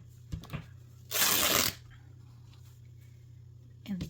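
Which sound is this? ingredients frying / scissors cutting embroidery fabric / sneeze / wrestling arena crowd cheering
scissors cutting embroidery fabric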